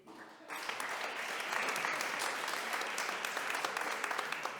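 A live audience at a French-language stage show bursts into applause after a brief quiet start, holding a dense, steady roar of clapping for about four seconds with no talking.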